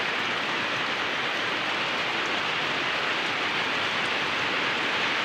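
Heavy rain falls in a steady, broad hiss that stays loud and unbroken throughout, with no voices.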